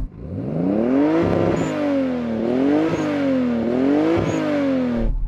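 A Toyota Supra engine revs repeatedly, pitch climbing and falling in three smooth waves, loud and close, with no talking.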